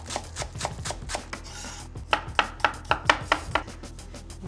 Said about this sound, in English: I'm just going to slice up some spring onions and garlic.